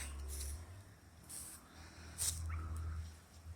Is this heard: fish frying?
no